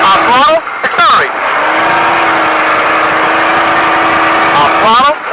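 A Baja truck's engine roars close up on a track at Speed Vegas, revving up in rising pulls around a sustained high drone, with a voice cutting in briefly at the start and end.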